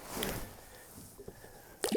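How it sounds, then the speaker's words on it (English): A lake trout slips back into the lake water at Mahood Lake, British Columbia, making a few faint drips and soft squishy splashes, then a brief sharper splash as it swims off. "We're gonna put him back in the water and let him swim away."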